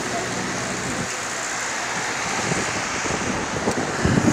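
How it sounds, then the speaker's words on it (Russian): Strong wind in Washington roars and buffets the microphone steadily before a storm, with a rumbling, rushing wash that swells slightly toward the end. "Сильный ветер."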